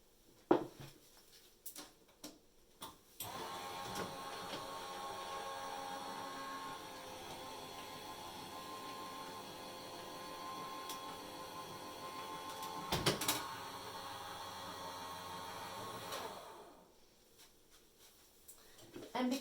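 A hot foil machine runs a card through for several seconds, giving a steady mechanical motor whir with a sharp clunk partway, preceded and followed by small handling knocks.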